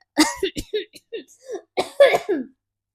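A short series of coughs and throat-clearing bursts, close and fairly loud, with a brief pause in the middle and no speech.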